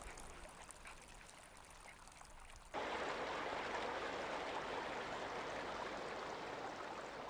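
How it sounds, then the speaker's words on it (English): Water begins flowing partway through, a steady rushing stream that stays loud and close after a quieter start. "when you hear water like this"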